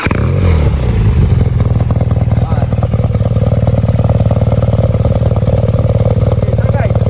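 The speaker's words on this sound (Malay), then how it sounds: "so ni bunyi startup BMW R90 with stock exhaust." A BMW R nineT Pure motorcycle with its stock exhaust fires up and settles into a loud, close, steady idle with a rapid pulsing beat, a short clatter at the start and no talk over it.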